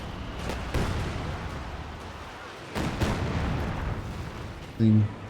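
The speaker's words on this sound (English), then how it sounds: "Artavick with the double wipe from the caddy with another very decent creeping barrage here." Creeping artillery barrage in a competitive video game match: a continuous rumble of booming shell impacts with heavier blasts now and then, under a commentator talking throughout.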